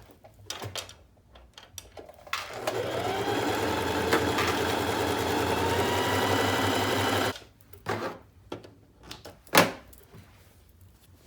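A sewing machine runs steadily for about five seconds, stitching a straight row, with quieter handling clicks and thumps of fabric and thread before and after.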